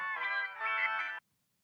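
Phone ringtone playing a bright, steady electronic tone for just over a second, clear and alone, then stopping abruptly into silence.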